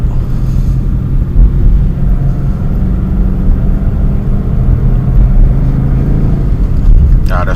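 Car driving slowly through heavy traffic on a road, a steady loud low engine and road rumble throughout with no distinct passing vehicles, recorded from inside the car.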